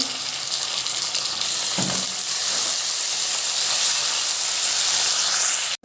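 Tomatoes and tamarind drop into a hot sambar tempering, setting off a loud, steady sizzle and hiss of frying that rises sharply around the addition and keeps crackling without pause.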